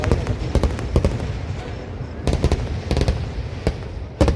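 Fireworks burst at the Chelakkara temple festival in Thrissur as a dense, continuous crackle with repeated sharp booming reports, loud and near over a crowd murmur.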